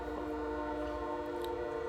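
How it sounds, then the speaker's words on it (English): A model train set running on a track, a steady mechanical hum with a sustained tonal whine, close and constant, with a brief faint click partway through. "Every time I turn it on, I'll get a train to come by."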